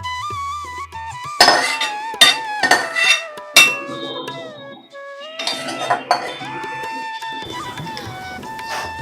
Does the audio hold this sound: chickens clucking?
no